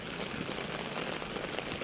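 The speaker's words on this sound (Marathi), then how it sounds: "एवढा पाऊस चालू आहे कालपासून" Steady rain falls over waterlogged village farm fields, a continuous close patter and wash of drops with no talking.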